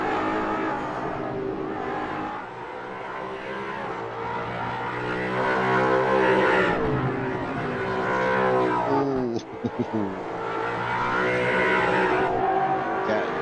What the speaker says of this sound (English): Jack was hard on the brakes there to avoid contact.